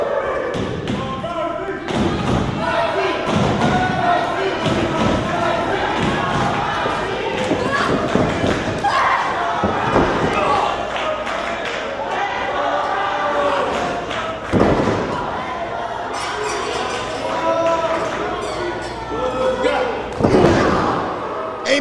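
A wrestling chop to the chest and heavy body slams on the ring canvas during an all-women's wrestling show, repeated thuds and slaps under a commentator's running call and crowd noise.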